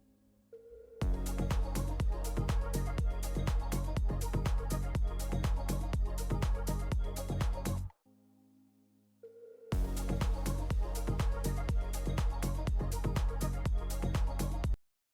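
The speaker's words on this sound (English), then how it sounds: "So this is just a basic white noise impact sound." A white noise impact with a long reverb tail repeats as rapid loud hits in a steady rhythm, cuts off, then starts again after a short gap. The bursts are close and full, with no voices.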